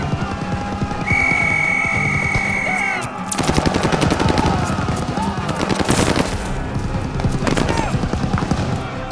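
Machine gun fire in Call of Duty: Vanguard during a wartime assault, loud rapid bursts of shots crackling over a dense battle din with shouting voices in the mix.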